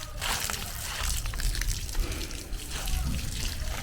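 Water flowing from a garden pipe onto soil and plants, a steady splashing hiss with low gurgling, fairly close and moderately quiet.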